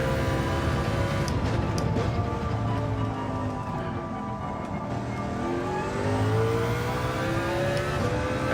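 A race car engine is held near full throttle in Gran Turismo 7, with a steady high-revving whine and gear-shift pitch sweeps carrying on continuously, loud and up close.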